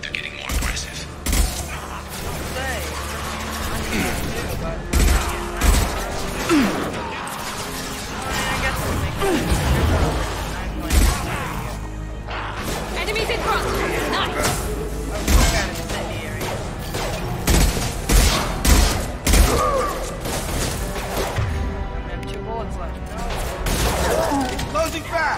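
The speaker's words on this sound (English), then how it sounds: "This is why you use assault rifles." Assault rifle fire in a Mass Effect 2 firefight: dense, continuous bursts of sharp shots and impacts fill the whole stretch, mixed with game sound effects and voices talking over the combat.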